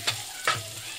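Chopped tomatoes and egg sizzle in a pan under a spatula, with two short scraping stirs over a soft, steady frying hiss.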